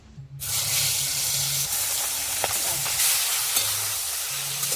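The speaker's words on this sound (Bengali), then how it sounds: "তেল দিয়ে মাছটাকে একটু হালকা ভাজতে হবে" Steady, dense sizzling of live koi fish (climbing perch) frying lightly in oil, loud and close, with a faint low hum underneath and no talking.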